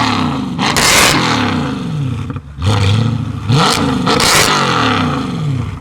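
A Mercedes W204 C63 AMG V8 with LT headers and straight-piped exhaust blasts through repeated loud, raspy revs, each surge climbing sharply before cutting off with crackles, close and roaring with no talking.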